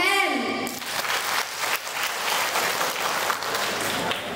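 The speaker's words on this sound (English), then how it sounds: "Clap your hands" Music fades out as a school audience at an English speaking contest breaks into sustained, loud applause for a student dance, the clapping dense and steady throughout.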